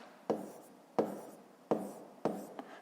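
Pen or chalk writing during a fifth-grade maths lesson: four separate short scratchy strokes at roughly even intervals, each a sharp onset that trails off, quiet and close.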